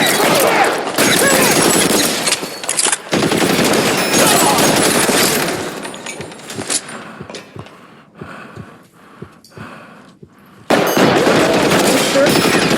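Rapid bursts of gunshots in the L.A. Noire video game, loud and close, with stretches of sustained fire broken by a quieter gap with scattered single shots before the shooting resumes.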